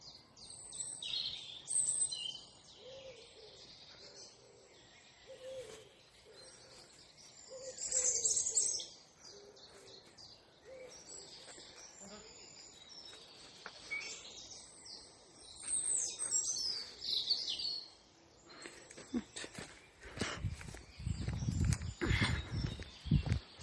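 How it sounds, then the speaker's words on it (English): Birdsong in a rural wood, with repeated chirps and calls from several birds at moderate distance, some cooing, and a burst of louder rustling or handling noise near the end. "I'm recording the bird song"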